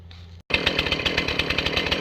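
Stihl MS-271 chainsaw fitted with a firewood ProSizer cutting logs, a loud close buzzing engine that snaps on after a brief idle and then pulses steadily through the cut.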